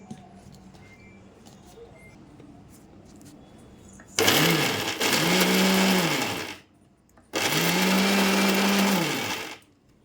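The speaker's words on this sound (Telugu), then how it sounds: "ఇప్పుడు మళ్ళీ దీన్ని మొత్తం గ్రైండ్ చేసుకోవాలి" A mixer grinder grinds spice paste for stuffed brinjal curry in two loud, close bursts of a few seconds each, separated by a short pause and preceded by quiet room noise.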